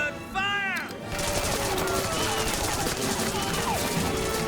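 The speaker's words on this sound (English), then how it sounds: "That is willy-nilly gunfire." Rapid, sustained gunfire from a Doctor Who episode, The Satan Pit, a continuous crackling burst of shots filling the scene after a brief shout and a few sweeping tonal cries at the start.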